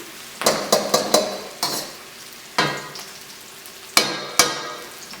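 Beef pad krapow with garlic frying in a pan, sharp bursts of sizzle and clattering stir strokes in irregular clusters, close and fairly loud, with quieter hissing between them and no voices.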